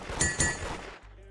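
Two or three quick gunshots crack in the Roblox game Da Hood, close and bright with short metallic ringing tails, ending in a low hum.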